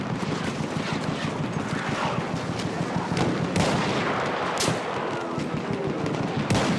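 Sustained machine gun fire in Battlefield 1 on the Suez Sinai desert map, a dense continuous rattle of rapid shots with occasional louder bursts and booms standing out, steady and close throughout with no talk.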